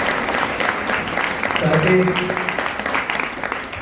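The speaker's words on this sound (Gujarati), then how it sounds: "આપણે તાળીઓના ગડગડાટથી સ્વાગત કરીશું" An audience at an awareness program gives sustained applause to welcome the chairman, a steady clapping wash running under someone speaking over a microphone.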